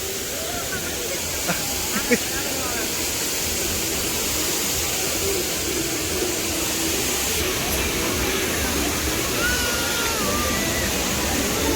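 Water pours down at a waterfall show at the Kochi water expo, a constant loud rushing roar, with distant voices and crowd chatter faintly beneath it.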